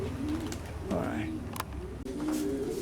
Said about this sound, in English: Okay, guys, I guess it's time to feed the birds.